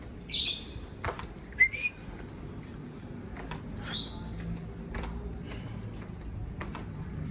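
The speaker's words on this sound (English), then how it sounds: "there's a bird somewhere saying hello" A bird on a street in Naples gives a few short, high chirps early on, then quieter scattered calls over faint street ambience and footsteps.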